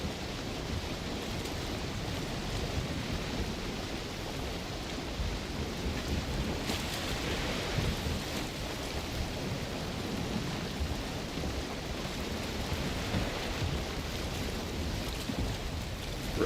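Steady rain in the Norse survival video game Valheim, a dense continuous hiss of falling water with no talking.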